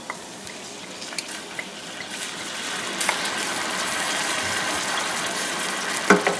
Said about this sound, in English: So I'm going to add my wine now.